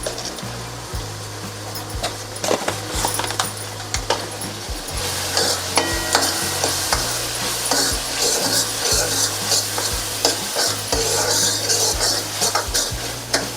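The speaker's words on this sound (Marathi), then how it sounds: "असा गाळ होईपर्यंत आपण परतून घेणार आहोत." Spices, onion masala and tomato being sautéed and stirred in a pan for dhaba-style whole masoor dal, with a steady close scraping and stirring over a soft sizzle throughout.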